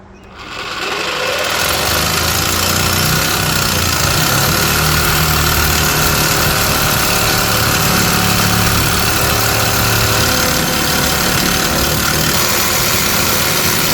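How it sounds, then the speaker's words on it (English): A Sawzall reciprocating saw cuts through a truck frame to fit a Raptor front bumper, a steady loud buzzing drone that runs unbroken for the whole stretch with no talk. "So for now I'm just going to use a Sawzall to kind of start this."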